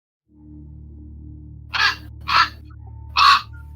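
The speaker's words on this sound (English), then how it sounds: "Seems to be a murder of crows." Three loud, harsh crow caws ring out one after another at uneven intervals over a low steady hum, with no talking.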